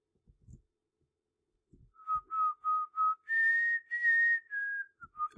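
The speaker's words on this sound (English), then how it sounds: "I probably shouldn't whistle in the microphone" A man whistles a short tune near a microphone while gaming, a run of clear pitched notes after a few faint taps, rising in a held middle phrase and ending with a brief note.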